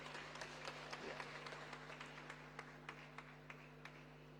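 An audience claps at a closing ceremony for Malaysia's Nutrition Month, scattered applause heard faintly and steadily over a low hum.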